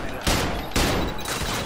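Rapid bursts of gunfire in the shooter game Trepang2, loud and close, coming in three dense volleys with brief gaps between them.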